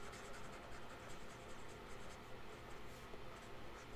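Soft, continuous scratching of a colored pencil moving across paper, quiet and close, with no talking.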